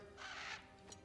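A bird caws in God of War Ragnarök, one drawn-out raspy call followed by a brief second note, quiet over a low ambient game background.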